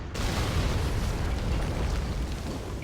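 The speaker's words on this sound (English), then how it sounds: "When it's destroyed, it explodes violently, which produces some violent explosion." Munition bunker blowing up in the Rise of the Reds strategy game, a loud, sustained explosive roar that bursts in suddenly and rumbles on in heavy, dense noise for nearly three seconds, with no speech.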